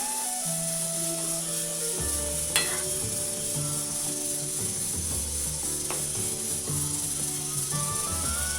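Potato and eggplant curry (aloo vangyachi bhaji) cooking in a pan: a steady, soft sizzle and hiss runs throughout beneath background music, with a brief scrape or clink midway.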